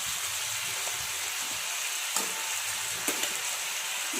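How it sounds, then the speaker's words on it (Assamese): Steady frying sizzle of green chilies in hot oil, with a couple of faint clinks; no voices. "জলকীয়াটো দি অকণমান মই ভাজি ল'লোঁ"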